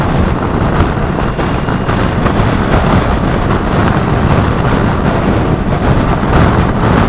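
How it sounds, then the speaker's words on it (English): Steady wind buffeting a microphone during an Easter ride to Devon, a loud, continuous broadband roar with constant rushing and no pauses throughout. "A little bit breezy."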